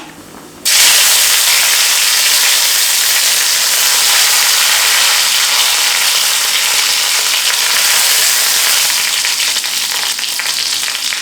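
Mustard seeds crackle and splutter in hot coconut oil. A loud, dense, continuous sizzling hiss starts abruptly and holds steady right up close, with no voices.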